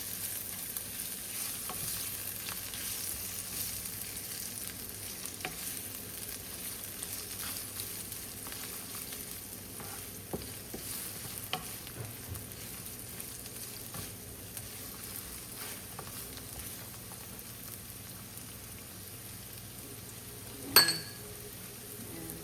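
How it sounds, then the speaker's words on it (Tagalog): Onion sautéing in a pan for an ampalaya with shrimp dish, a faint steady sizzle with occasional soft stirring scrapes and a single sharp clink near the end. "Isahin lang natin ang ating sibuyas. Ayan, sibuyas, isahin natin."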